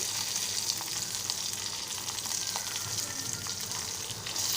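Curry leaves and chili sizzling in hot oil in a frying pan, a dense, continuous crackle with small pops throughout, steady and close.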